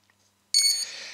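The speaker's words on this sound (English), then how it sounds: "And I'm sorry about the motors beeping." Quadcopter motors beep from a KK2.1.5 flight controller during setup with a bright electronic tone. It starts abruptly, holds steady for about half a second, then tails off slightly lower, alone in a quiet room.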